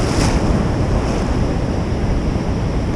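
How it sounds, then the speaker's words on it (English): Rough surf and strong wind on a beach: a loud, continuous roar of breaking waves with heavy wind buffeting the microphone throughout and no voices. "Rough water."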